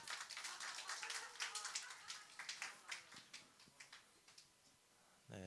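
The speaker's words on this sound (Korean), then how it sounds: "네, 큰 박수 부탁드립니다." A middle-school church youth group claps to welcome a new friend at Sunday worship: quiet, distinct hand claps in a loose, thinning rhythm that fades toward the end.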